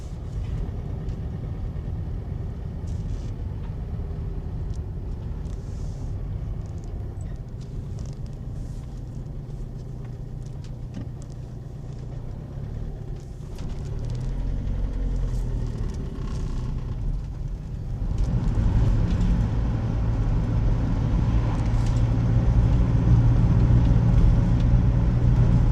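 A motorhome is driven along a mountain road, with a steady engine and road rumble heard from inside the cab that grows louder and rougher in the second half as the vehicle works harder.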